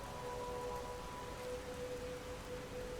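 Steady rain falls through a quiet scene in the video game Lies of P, a soft, continuous hiss with a faint tonal hum underneath and no voices.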